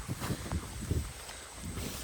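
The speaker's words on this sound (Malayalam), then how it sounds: "നല്ല കാറ്റ്." Wind gusts outdoors in buffeting bursts that rumble against the microphone, loud and close throughout.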